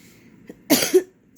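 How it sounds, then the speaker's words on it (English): A single sharp human cough, close and fairly loud, a short double burst in an otherwise quiet indoor room. "I didn't cough too close to the camera"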